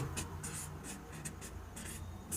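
A pen scratches on paper while maths is worked out in a class 10 lesson, giving short bursts of scribbling strokes with brief pauses between them, close and quiet, with no talking.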